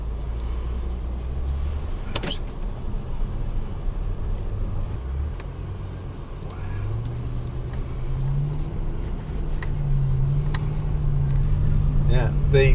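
A Bentley rolls along a dirt road, and inside the cabin a low, smooth rumble and faint road noise carry on steadily while people talk over it.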